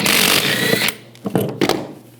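A power tool with a 14mm socket spins out the screws holding a brake caliper bracket on a 2004-2009 Toyota Prius. One long whirring burst is followed by two short bursts.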